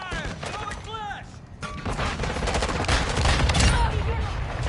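Video game gunfire in a multiplayer match with a VTOL overhead, rapid bursts of shots and crashes building into a sustained barrage, under brief talk near the start.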